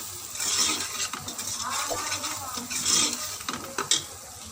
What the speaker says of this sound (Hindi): मसाले शामिल करके हम इसको तकरीबन 5-10 सेकंड के लिए भूनेंगे।